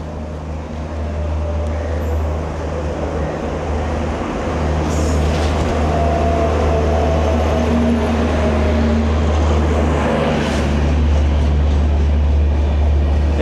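A train pulls into Salboni railway station in Paschim Medinipur with a loud, continuous low rumble that holds steady throughout, with a faint squeal from the wheels toward the end and no talk.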